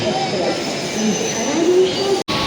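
A Konkan Railway train rolls along toward Diva with a steady loud rumble, faint wheel squeals drifting in and out, and a brief dropout near the end; voices speak nearby.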